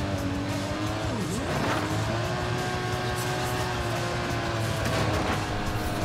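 Tires squeal in a long, sweeping skid as a car drifts in the racing game Forza Horizon 5, with engine drone running steadily underneath and pitch bending down and up through the slide.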